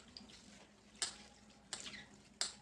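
Dill greens are swished and rinsed in a basin of water, giving faint sloshing with three short splashy bursts spaced about a second apart.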